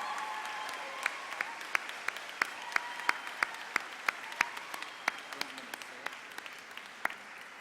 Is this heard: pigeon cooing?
no